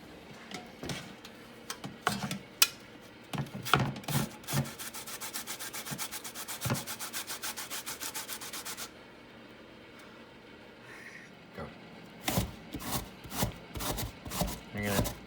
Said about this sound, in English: You're gonna grate about 2 cups worth of zucchini.